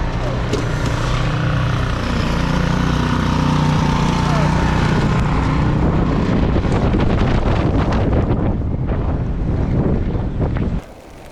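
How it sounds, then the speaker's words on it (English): Blizzard wind roaring against the microphone outdoors while cycling on snowy roads, a loud continuous buffeting rush that eases near the end, with a voice talking over it. "No, don't go out there, it's a storm."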